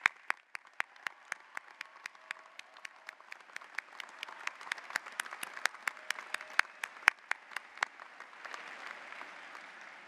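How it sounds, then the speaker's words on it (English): Sparse, distinct claps echo through a large hall at a university commencement as the audience applauds faculty, with single sharp hand claps repeating in a steady rhythm over a faint crowd hum. "Please join me as we applaud their supportive and dedication to the success of our students."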